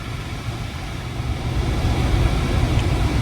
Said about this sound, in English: Sorry for all the HVAC noise. It'll calm down in a second. It's blowing the fans at full tilt.